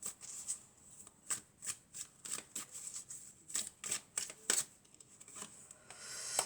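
Oracle cards are shuffled in quick, crisp riffles and flicks, a close, soft run of papery bursts in an uneven rhythm with no voice over them.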